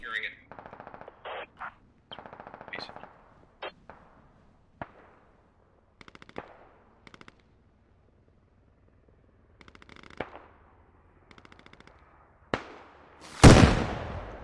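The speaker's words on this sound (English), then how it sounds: "Rocket shot." SquadOps firefight with sharp clipped bursts of automatic gunfire and scattered single shots at varying distances, quiet gaps between them, ending in a loud rocket blast that swells and rolls off.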